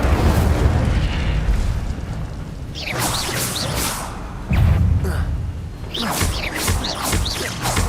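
Incendio fire spell cast in the Hogwarts Legacy video game, loud whooshing bursts and booming flares in quick succession, dense and close with a roaring fiery tail.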